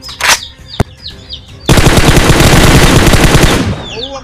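Loud gunfire erupts close by: a couple of single sharp shots at first, then a dense, rapid automatic burst lasting about two seconds, with birds chirping in the background.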